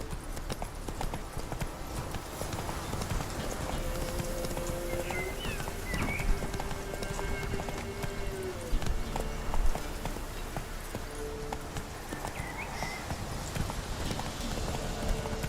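Hooves of Roach, a horse in The Witcher 3 video game, clip-clop in a steady, close trotting rhythm throughout, with a few short spoken lines and faint game ambience beneath.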